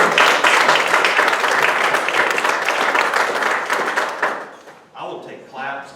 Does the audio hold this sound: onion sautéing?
no